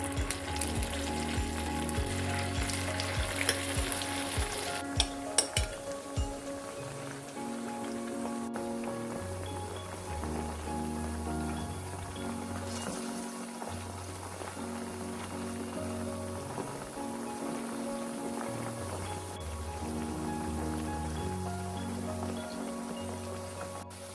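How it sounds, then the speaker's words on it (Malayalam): Marinated chicken for chilli chicken deep-fries in sunflower oil in a kadai, crackling loudly and busily at first as the pieces go in, then settling into a steady close sizzle with no voices. "മാരിനേറ്റ് ചെയ്ത് വെച്ച ചിക്കന് ഇനിയും ഒരു കടായി അടുപ്പത്തേക്ക് വെച്ച് ആവശ്യത്തിന് സൺഫ്ലവർ ഓയിൽ ഒഴിച്ചു കൊടുത്തിട്ട് ഇനി ഇത് വറുത്ത് കോരാമേ"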